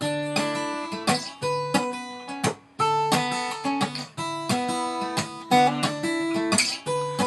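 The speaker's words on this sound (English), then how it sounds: "on beats 2 and 4, he's doing this slap flick technique" Rhythmic acoustic guitar strumming, a percussive slap and flick landing on beats two and four over bass notes, a steady groove with no voices.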